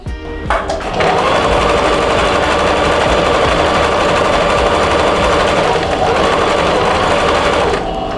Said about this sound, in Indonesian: Oke, mari kita menjahit.